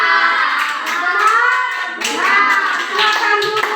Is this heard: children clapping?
yes